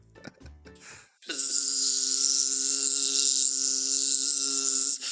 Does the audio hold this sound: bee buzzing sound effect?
yes